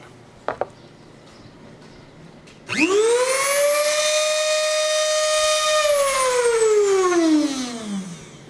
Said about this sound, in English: This is hooked up to an air compressor. The air goes to the top of the egg up here.